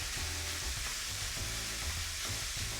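Ground meat sizzles steadily in a preheated frying pan, a constant dense hiss with a low hum beneath it, with no voices.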